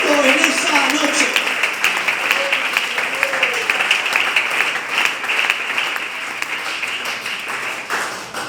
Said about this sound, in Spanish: Ese aplauso es para Dios.